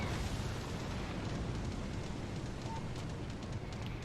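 Carrier aircraft bombs burst around an Italian destroyer in World of Warships Legends as a dense, continuous rumble of explosions and booming noise that stays fairly loud and even throughout.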